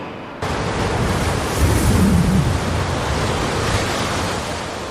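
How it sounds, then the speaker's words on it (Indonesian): Strong wind blowing hard and steady, a loud broadband rush with a sudden onset and low buffeting gusts against the microphone, no voices. "tiba-tiba saja angin bertiup agak kencang"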